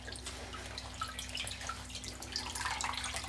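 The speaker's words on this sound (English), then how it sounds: "I'm just going to squeeze that out a little bit" Water drips and trickles from dye cloth squeezed out over a mordant bath in natural dyeing, a faint, steady patter close by with no voices.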